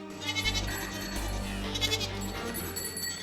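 Zana breed goats bleat in repeated wavering calls over a steady low background hum, with several animals overlapping at moderate loudness.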